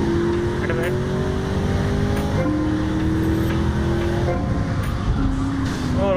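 Engine roar of cars racing in GTA Vice City, a steady loud drone with pitch climbing through gear changes and a few shifts, continuous with no speech.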